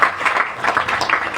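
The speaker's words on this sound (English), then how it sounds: "Let's give him a round of applause" An audience claps for a kirtan singer at a Krishna Janmashtami tent gathering: a steady patter of many hands, fairly close and moderately loud, with no talking.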